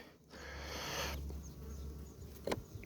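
Honeybees buzzing inside a small polystyrene nucleus hive wintering through frost: a steady, close, moderately loud hum holding throughout, with a brief knock near the end.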